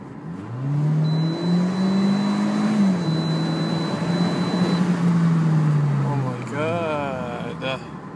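A 2013 Hyundai Genesis Coupe 2.0T with a Stage 1 tune revs hard on a dyno, the engine note climbing steadily, holding, then dropping away, followed by a brief voice.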